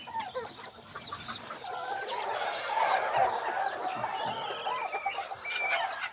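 Chickens cluck and murmur continuously in a coop with a small hen, a busy flock sound at close range with no talk.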